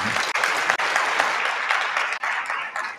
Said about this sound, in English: I know we can give him a bigger round of applause than that.